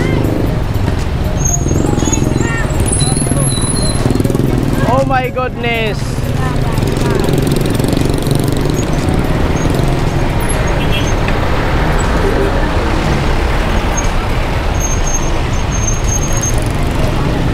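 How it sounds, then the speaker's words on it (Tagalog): Road traffic on a busy street in Caloocan: continuous engine rumble and passing vehicles with squealing brakes and a hiss of air brakes, close and steady, while someone speaks briefly over it. "Traffic kasi dito."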